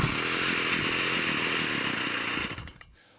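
Strimmer engine running on choke, a loud, steady buzzing two-stroke roar with a rough, uneven edge that holds for over two seconds, then dies away abruptly to near silence.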